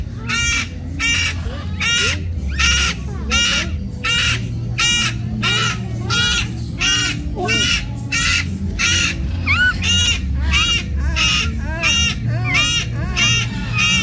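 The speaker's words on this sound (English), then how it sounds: "Does the bird copy you or you copy the bird?" A bird on a cruise gives loud, repeated honking caws in a steady rhythm of harsh calls, one after another throughout, with people's voices mixed in underneath.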